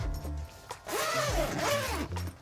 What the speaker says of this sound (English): To open the windows, you got a zipper up here